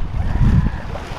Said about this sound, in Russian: А, вот, значит, море реально спокойное